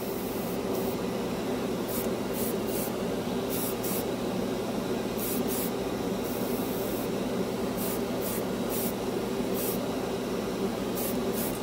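An airbrush sprays Vallejo Mecha Color paint onto a plastic scale model, giving a steady close hiss with short bursts of stronger spray as the trigger is pulled.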